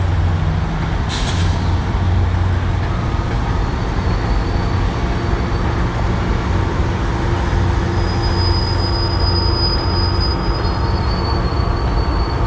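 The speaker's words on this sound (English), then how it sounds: "Train coming out of the station." A train leaving Hoboken Terminal in New Jersey rumbles steadily nearby, its wheels squealing on the rails in a high, sustained tone, with a brief hiss like air brakes early on.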